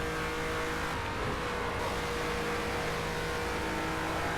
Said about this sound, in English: You can get something of an idea of the top speed difference between the GT3 and Nitori's upgraded Renault here.